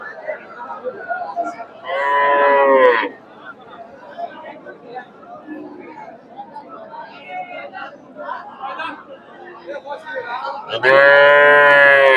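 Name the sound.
cattle mooing at a cattle market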